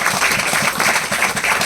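A church congregation at a Hindi-language sermon claps together in a brisk, rhythmic pulse, loud and close, with no speaking over it.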